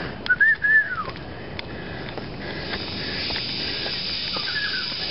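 Outdoor birdsong: one clear whistled chirp phrase near the start, then faint scattered calls over a steady insect-like hiss, with no voices.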